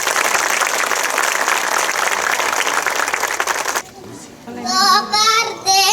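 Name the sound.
audience applause for kindergarten children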